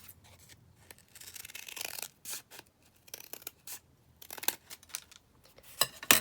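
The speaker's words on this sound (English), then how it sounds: "we'll just cut it down here as well at the top" Scissors snip through paper, cutting pieces for book pockets in a craft tutorial. Short, crisp cuts come close by in irregular bursts separated by quiet pauses, with no voices.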